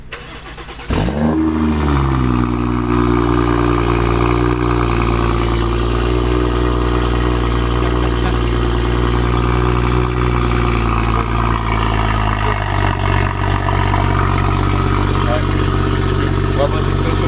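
A motorcycle engine fires up and then runs at a steady idle, loud and close, holding an even throbbing drone for many seconds with a slight shift near the end.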